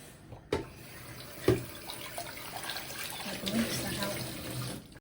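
Tea dye is tipped from a pot into a kitchen sink, pouring in a steady close splash after a couple of sharp knocks, with someone speaking briefly.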